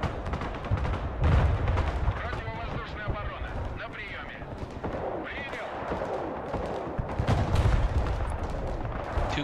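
Grad rocket artillery salvos with incendiary rounds thunder in the Broken Arrow video game, a dense continuous roar of launches and explosions with sharp bursts that swell and fade.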